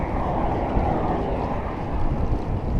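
Wind buffets the microphone while cycling, a loud, continuous low rumble with a gusty swell that fills the whole stretch and has no voices over it.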